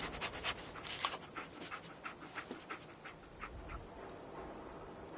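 Dogmeat, the dog companion in Fallout 4, pants and sniffs in quick rhythmic bursts. The breaths are close, moderately loud and ease off toward the end, with no speech.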